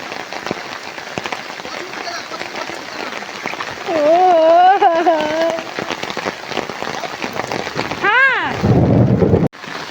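Rain falls steadily with a low rumble of thunder near the end, a dense hiss throughout while voices speak and a child-like voice rises in wavering tones over it.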